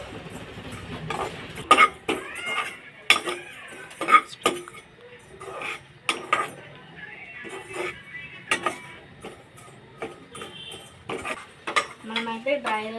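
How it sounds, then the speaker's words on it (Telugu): Coriander seeds, pepper and ajwain dry roasting in a pan, with repeated sharp clinks and scrapes of a utensil stirring against metal at an irregular pace, close and fairly loud, with faint background sounds between strokes. "ఇప్పుడు దీన్ని డ్రై రోస్ట్ అయితే చేసుకుందాం."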